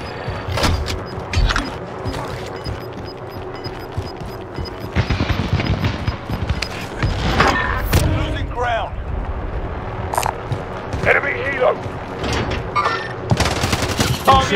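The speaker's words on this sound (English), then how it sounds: "taking fire over here. Under hostile fire." Video game gunfire crackles in scattered bursts and thuds throughout, close and fairly loud, mixed with frequent talking voices.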